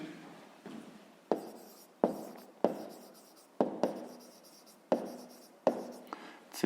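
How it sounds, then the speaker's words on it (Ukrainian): Hand-written digit being put down on paper for a fifth-grade math exercise, heard as a series of close, distinct pen or chalk strokes with sharp onsets, roughly eight taps and scratches at an uneven rhythm, no talk. "Треба додати цифру 3, то ми пишемо цифрою 3."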